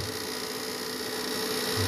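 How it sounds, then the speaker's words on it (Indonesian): A cooling fan spins inside a compact 2 kW synchronous solar power panel, giving a steady, close electrical hum and whir that holds constant with no talking over it. "ini kipas udah muter."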